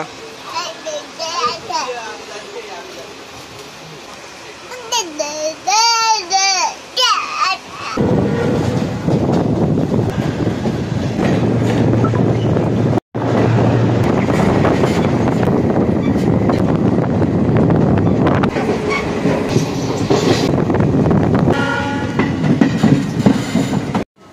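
A train pulling into Ambassa station, a long loud rolling rumble with wheel clatter and wind buffeting on the microphone, with a short melodic horn-like tone early on and people talking throughout.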